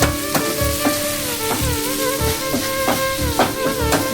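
Onion and tomato masala sizzling in a pan, a loud, continuous close frying hiss broken by regular rhythmic stirring scrapes.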